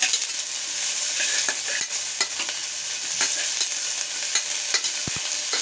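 Crushed ginger and garlic sauté in a pan for a banana-flower biryani, a bright steady sizzle with repeated scraping stirs and clinks of the spoon, close and clear with no talk.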